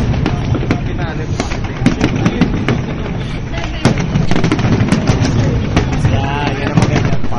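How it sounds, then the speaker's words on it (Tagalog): Fireworks at the Philippine International Pyromusical Competition burst continuously in loud, dense crackling volleys of rapid bangs and pops, with crowd voices mixed in underneath. "Putukan to the max."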